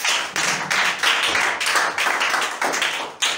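A church congregation claps together in praise of the Lord during an evangelical service, producing steady rhythmic applause of many hands, loud and close, with no talking.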